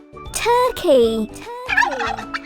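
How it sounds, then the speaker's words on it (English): A turkey gobbles in a rapid, warbling burst, then gobbles again after a brief pause, loud and close with no other sounds around it. "Turkey."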